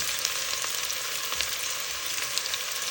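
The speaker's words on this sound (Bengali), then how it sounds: "প্রথমে আমি পেঁয়াজ, কিছু পরিমাণে পেঁয়াজ দিয়ে দিই এখানে।" Onions frying in oil in a pan: a steady, dense hiss and crackle of sizzling that runs unbroken throughout, with no voices.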